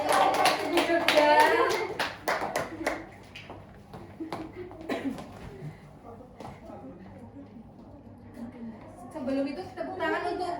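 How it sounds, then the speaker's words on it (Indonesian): A classroom group in a microteaching session applauds a presenting team, with a loud burst of clapping at the start that thins into scattered claps and a voice before the clapping swells again near the end. "Tepuk tangan untuk kelompok Tugu Jogja."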